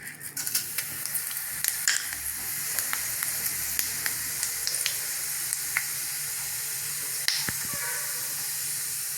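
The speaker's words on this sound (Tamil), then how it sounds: "இப்போ நம்ம குழம்ப தாளிச்சிக்கலாம்." Fennel seeds and onion tempering in hot oil in a kadai for radish vadai kuzhambu, giving a steady close sizzle with scattered crackles and pops throughout.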